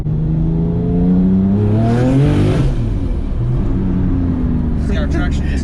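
A tuned roughly 1000-horsepower Porsche 997 911 Turbo pulls hard from inside the cabin, engine note climbing with a brief surge as the wheels spin, loud and continuous under talk from the occupants.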